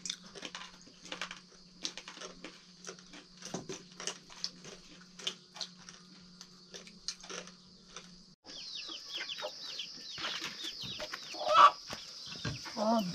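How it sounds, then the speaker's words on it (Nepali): Chickens being let out and fed in a village yard make soft clucks with scattered pecking taps at grain, fairly faint and close, growing busier toward the end. "मेरो कुखुरा छोड्नु पर्यो अनि कुखुराहरूलाई चारो दिनु पर्यो"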